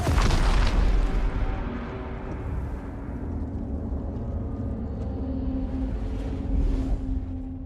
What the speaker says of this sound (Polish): To chyba wybuchnie.